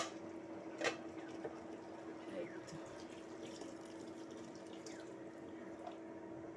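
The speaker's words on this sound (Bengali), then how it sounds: "এখন ডাল সিদ্ধ হওয়ার জন্য একটু" Hot water is poured into a cooking pot of mung dal with tomatoes for boiling, making a faint, steady trickling and splashing with a few small clinks.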